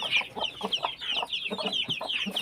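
Brahma hens clucking in a backyard, a busy overlapping series of close clucks and squawks from several birds with no pause.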